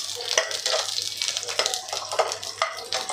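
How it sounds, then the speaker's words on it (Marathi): Ginger and garlic fry in oil while being stirred for a paneer dish, giving a close, continuous sizzle broken by rhythmic scraping strokes of the spoon, with faint talk underneath. "छान सोनेरी रंगावर आपल्याला हे परतवून घ्यायचं आहे।"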